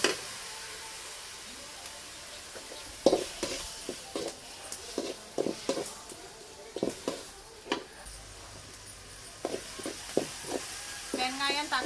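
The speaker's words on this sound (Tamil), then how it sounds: "தக்காளி இஞ்சி பூண்டு நல்லா வதங்கிட்டு இருக்கோம்" Tomato, ginger and garlic sauté in a pan for a country chicken gravy, with a soft continuous sizzle under repeated spoon stirs and scrapes against the pan, close and fairly quiet.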